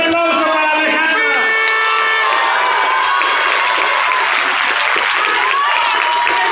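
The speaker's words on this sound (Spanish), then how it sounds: "Un aplauso para Alejandra." A loud crowd at the launch of a campaign rally in Iztapalapa claps and cheers continuously, with shouted voices ringing over the start before sustained applause fills the space.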